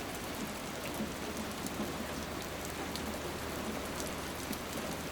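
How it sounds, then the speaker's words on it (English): Heavy rain pours in a steady, dense hiss with scattered drop patter, continuous and fairly soft, with no voices. "The rain poured relentlessly, a silver curtain obscuring the endless highway stretching before me."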